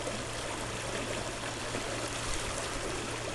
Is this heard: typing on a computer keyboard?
no